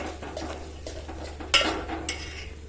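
A spoon scraping and clinking against a pot while pulao with peas is stirred, with a few sharper metallic knocks standing out over a low steady hum.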